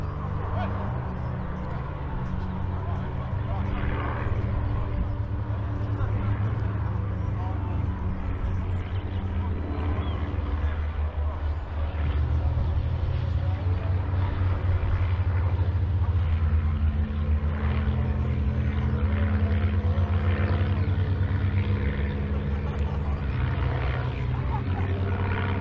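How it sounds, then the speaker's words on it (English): A biplane passes overhead near Frensham Great Pond, its propeller engine a steady droning rumble that holds throughout and swells slightly toward the end, with faint outdoor ambience beneath. "Oh, here comes the biplane again."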